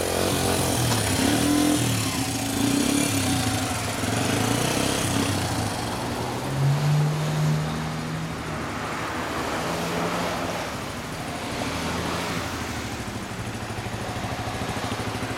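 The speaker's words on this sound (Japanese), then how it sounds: "エンジン鳴ってる" A small Honda Ape 50cc motorcycle engine with a BMS-R exhaust idles and revs with a buzzy exhaust note, running continuously at close range with a few rising throttle blips.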